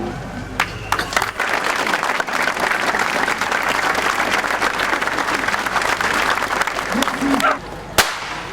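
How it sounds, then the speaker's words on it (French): A crowd of runners and spectators gathered before a 10 km road race in Vélizy claps in loud, sustained applause. A few sharp, close claps stand out early and near the end, with some voices mixed in. "une minute d'applaudissements"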